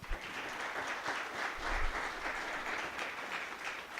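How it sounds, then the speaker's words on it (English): Quiet, continuous applause from the audience at a community forum on the opioid crisis, a soft spread of clapping heard at some distance without speech. "A big round of applause for them as well"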